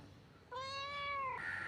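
A cat gives a single clear, drawn-out meow, close and loud, with no talk around it.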